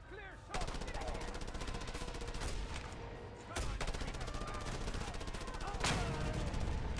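Sustained automatic gunfire in the Just Cause video game clatters loud and close, with a few heavier booming shots standing out along the way, and a voice speaks within the firing.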